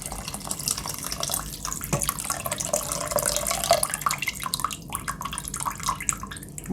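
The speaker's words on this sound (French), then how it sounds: "On va mettre assez suffisamment d'eau pour qu'on puisse récupérer une sauce après." Water pours into a cocotte pot holding veal tongue, a splashing, trickling stream with some dripping and clatter, fairly close and continuous throughout.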